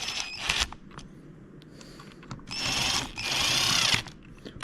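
Power tool snugs up handlebar bolts on a 2024 Harley-Davidson Road Glide, giving a couple of short close whirring bursts between quiet clicks and handling noise.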